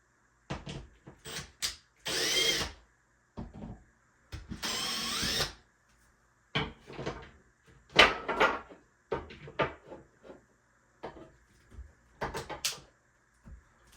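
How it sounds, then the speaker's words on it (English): A power drill drives screws to fit a fixture in a house. Two short whirring runs stand out among scattered knocks, clicks and handling clatter, heard close up in a quiet room. "This is going to be a screw-it-in thing."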